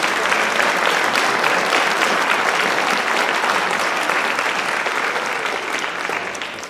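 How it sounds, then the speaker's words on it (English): Audience at a Floyd Central High School baccalaureate ceremony for the class of 2021 gives sustained, dense applause, loud and steady throughout before thinning slightly near the end. "Just a big round of applause for getting to this point."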